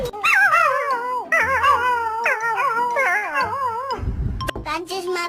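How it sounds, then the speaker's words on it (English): A young dog whimpers and howls close up in rising, wavering cries, then gives a few yips near the end. "That's just my baby dog."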